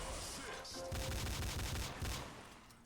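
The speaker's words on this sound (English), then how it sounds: "I'm gonna start shooting." Rapid bursts of gunfire in the video game Counter-Strike Online 2 on the Ice World map, loud, dense and continuous, with a brief pause before steady automatic fire sets in.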